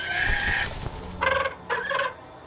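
A bird calls in The Lord of the Rings: Gollum video game, a clucking, fowl-like cry followed by two shorter bursts of squawking, mid-distance amid quiet ambience.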